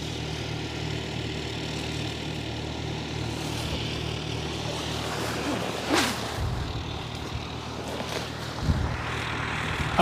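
A propeller-driven plane coming in to land at a farm airstrip gives off a low, continuous engine hum at moderate distance, with a couple of brief sharper noises breaking through the steady drone.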